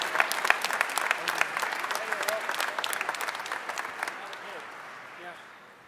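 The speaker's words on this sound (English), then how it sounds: "So give them an extra round of applause." An audience applauds the winning team at a hacker convention closing ceremony, dense clapping that starts loud and fades toward the end, with a voice speaking over it.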